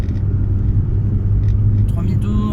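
A petrol car engine holds around 3000 rpm while climbing uphill, a steady loud rumble heard from inside the car, with faint clicks near the end.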